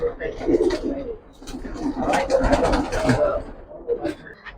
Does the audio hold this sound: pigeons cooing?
yes